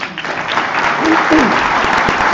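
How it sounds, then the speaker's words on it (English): Audience clapping at a school exhibition, a short dense burst of applause from a crowd with a voice briefly audible over it. "So how about another big round of applause for"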